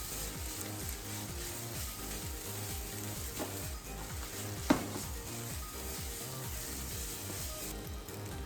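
Yakisoba noodles and cabbage sizzle steadily in a hot pan, a dense continuous frying crackle with rhythmic stirring pulses and one sharp knock partway through.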